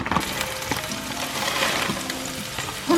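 Chopped green onion hits hot oil in a frying pan over medium heat, giving a soft, steady sizzle and crackle with faint scraping of a utensil.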